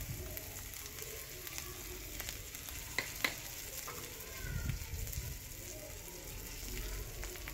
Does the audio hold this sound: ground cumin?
yes